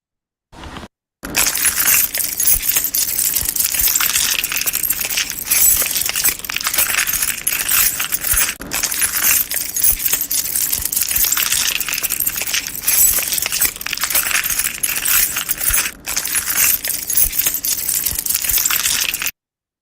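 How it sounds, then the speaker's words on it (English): A bunch of keys jangles and clanks together, a dense, continuous metallic clatter, close and loud, with no voices. "It is clanking around keys moving together."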